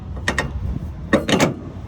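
Detachable Westfalia tow bar gooseneck on a Mercedes GLS 63 AMG being twisted into its socket, giving two short bursts of metallic ratcheting clicks close up with no talking.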